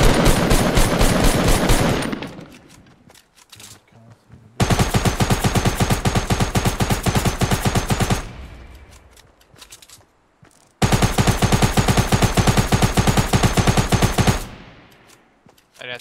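Two long bursts of rapid submachine gun fire in a battle royale video game, loud and dense, each lasting several seconds with a brief quieter gap between them.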